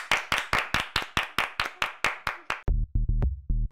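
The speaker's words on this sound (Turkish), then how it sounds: "Alkış." At a birthday party after candles are blown out, a small group claps in quick, even rhythm for a couple of seconds, then a short musical toy-like tune plays.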